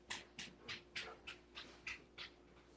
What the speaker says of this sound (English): Oh yeah, you hear my dog.